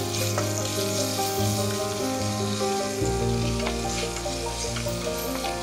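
Garlic and chicken frying in a wok, a loud, steady sizzle that runs throughout with stirring scrapes and a slight shift in tone partway as more food hits the hot pan.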